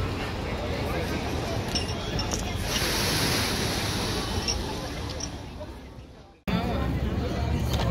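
Ocean surf rolls in at Malibu Beach with a steady wash of breaking waves, buffeted by wind noise on the microphone, and a voice speaks briefly over it.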